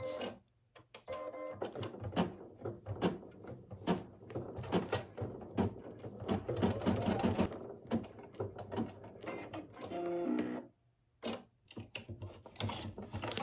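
Embroidery machine stitching a snowglobe Christmas ornament, a fast, steady, close mechanical clatter of needle strokes with brief pauses and a short stop near the end.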